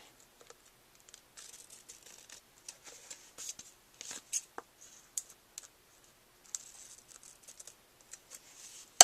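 A ribbon on a handmade thank-you card is trimmed with scissors, giving soft, close clicks and light snips spaced irregularly over near silence.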